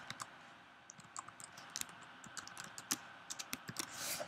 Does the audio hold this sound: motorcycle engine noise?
no